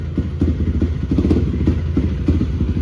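A motorcycle engine runs just after starting following months of disuse. It sounds close and uneven, a chugging, slightly rough idle with small pulses over a few seconds.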